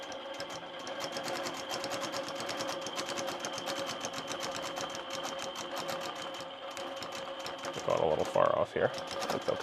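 Sewing machine stitching in rapid, even needle strokes while quilting with templates and rulers around applique, steady and close, with a person speaking briefly near the end.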